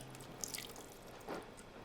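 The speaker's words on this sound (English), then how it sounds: "So we're just gonna add all our water into the container." Room-temperature water poured into a compote container for a dahlia flower arrangement, heard as a few soft drips and splashes followed by a brief trickle, quiet and close, with no talking.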